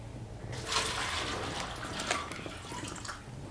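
Water is poured through a funnel, a brief gurgling, splashing trickle that starts abruptly and runs for a few seconds, faint and close, with no talking.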